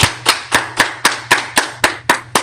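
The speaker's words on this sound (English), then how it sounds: "Let's clap it up" A class claps in steady unison, about ten sharp, evenly spaced claps ringing out close and loud over a faint low hum.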